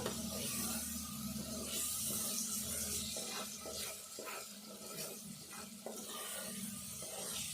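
Moong dal frying in a pan while being stirred, a dense continuous hiss with rhythmic scraping strokes of a spoon running through it, close and fairly loud, no voices.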